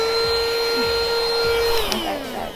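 A cheap cordless wireless vacuum cleaner runs steadily with a loud, high motor whine, its pitch dropping near the end as it winds down, with no speech.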